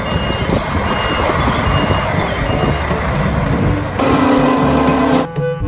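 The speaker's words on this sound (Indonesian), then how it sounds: "Yang ini ada mobil truk molen besar." A large concrete mixer truck rumbles with a steady engine drone while a reversing beeper sounds repeatedly; the noise stays loud and close throughout, with a brief drop near the end.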